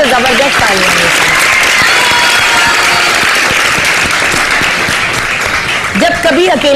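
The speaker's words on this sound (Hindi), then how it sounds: "तो जबरदस्त तालियां हैं।" Studio audience applause on a Pakistani morning talk show, loud sustained clapping from a crowd filling the whole stretch, with a voice speaking briefly at the start and end.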